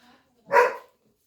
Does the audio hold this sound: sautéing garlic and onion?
no